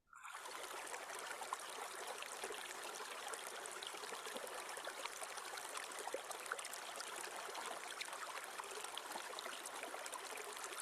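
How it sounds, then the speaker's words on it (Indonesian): Steady flowing water of a small stream trickling and babbling continuously, close and even in level throughout, with no voices. "apakah bisa mendengarkan suara air mengalir?"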